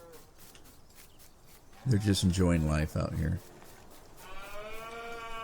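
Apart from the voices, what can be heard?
cattle mooing in the video game Farming Simulator 19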